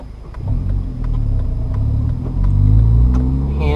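A manual car's engine rumbles and climbs in pitch as it revs through an upshift, loud and close, with a steady low drone and a brief dip before it pulls again.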